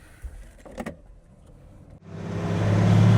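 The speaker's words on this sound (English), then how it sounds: "Inside here, you would not know that there's an M57 in front of you, other than how quiet the engine is." A Land Rover Defender farm truck fitted with an M57 engine: a few soft clicks and knocks, then the engine drones up into a steady, rising hum as the truck pulls away.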